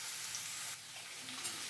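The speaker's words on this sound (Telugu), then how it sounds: "ఇప్పుడు ఈ కాకరకాయని మనం బాగా వేగనిద్దాం" Bitter gourd pieces fry in hot oil in a pan with a steady, close sizzle and a faint stir partway through, no voices.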